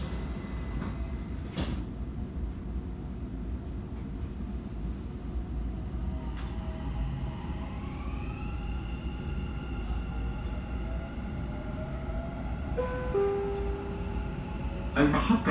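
Dubai Metro train running between stations, a steady rumbling hum from inside the carriage with a rising motor whine midway and some clicks and rattles near the end.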